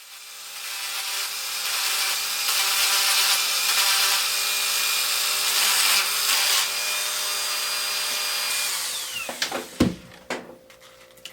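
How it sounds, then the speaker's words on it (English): A Dremel rotary tool shapes a wooden lipless crankbait lure, a loud steady high-pitched whine and grinding for several seconds, then it stops and a few knocks and clatters follow. "I'll use the Dremel a little bit to get into the tighter radiuses."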